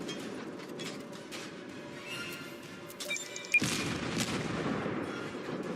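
Naval gunfire from warships in World of Warships rumbles as a low, continuous roar, with a sharper boom partway through and the noise thickening afterwards.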